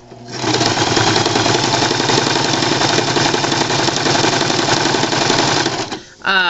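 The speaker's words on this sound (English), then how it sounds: "We're going to line up on the right side of the presser foot, and we're just doing a straight stitch through." A sewing machine runs a straight stitch through cotton fabric, a loud, fast, steady mechanical whir and needle patter up close, stopping abruptly just before the end.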